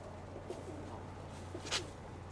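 Pigeons coo softly and intermittently outdoors, with a couple of faint, brief calls over a steady low background hum.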